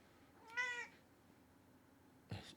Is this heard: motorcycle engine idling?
no